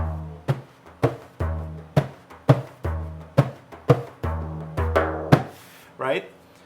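Slapped frame drum beats out a steady rhythm of sharp, close strikes, about a dozen evenly spaced hits with short decaying tails, ending on a softer final stroke.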